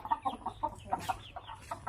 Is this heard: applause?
no